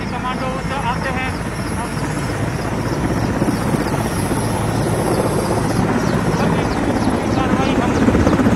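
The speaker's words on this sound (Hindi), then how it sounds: "ये तस्वीरें देखिए, हेलीकॉप्टर लैंड हो चुका है" A helicopter lands during an NSG commando counter-terror operation in Delhi. Its loud, steady rotor thump and turbine whine fill the scene throughout, with faint voices underneath.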